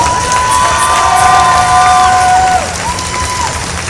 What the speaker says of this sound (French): Et on applaudit très fort.